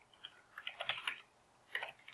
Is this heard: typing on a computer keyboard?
yes